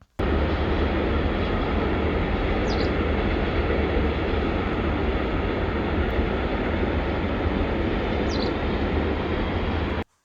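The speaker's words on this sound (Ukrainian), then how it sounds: "одразу за річкою розташована залізнична колія, якою цілодобово курсують вантажні потяги" A continuous heavy rumbling roar of a passing freight train, steady and loud for the whole stretch, with a couple of faint high squeals.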